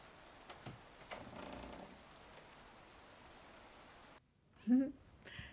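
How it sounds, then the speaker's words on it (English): Steady rain patters on a surface in the storybook game A Storied Life: Tabitha, a soft, even wash that briefly drops out near the end before a short tonal chime sounds. "It's raining, it's wet"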